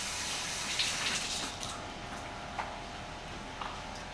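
Running tap water flows steadily while hands are rinsed in a kitchen during meatball prep, a soft continuous splash with a few faint knocks.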